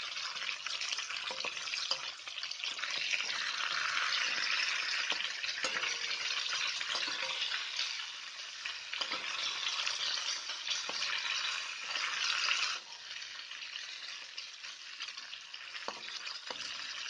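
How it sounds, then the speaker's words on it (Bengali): Fish frying in a hot wok for a Bengali masala fish curry: a loud, continuous crackling sizzle close by, with brief stirring scrapes and spatter bursts throughout. "এখন আমি মাছগুলো দিলাম। দেখুন কড়াই ভালো করে গরম হলে তবেই মাছগুলো দিতে হয়"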